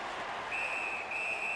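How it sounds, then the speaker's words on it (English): A referee's whistle in the NHL 19 hockey video game gives two sustained shrill blasts over crowd noise in an arena. "And freezes play for the whistle."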